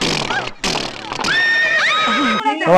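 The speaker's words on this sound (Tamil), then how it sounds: "குதிரை தொடுவியா, மூக்குக்குள்ள கை விடுவாமா அப்படி" A horse at a royal palace in Malaysia gives a loud, close whinny that rises and trails off, broken by brief gaps, with people talking around it.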